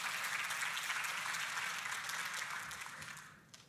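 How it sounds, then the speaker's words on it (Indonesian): A church congregation applauds in a dense, sustained wash of many hands clapping, fairly distant and even, then fading toward the end. "Boleh kita kasih tepuk tangan."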